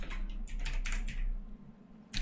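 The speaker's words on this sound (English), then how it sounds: "I'm typing the Japanese" Japanese text is typed on a computer keyboard in a short run of quick, soft clicking taps with a brief pause before a final burst.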